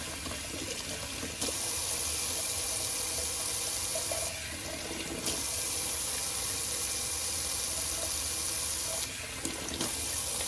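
Tap water runs steadily into a sink for a cold-water rinse during a wet shave, a constant close rush with brief shifts in flow.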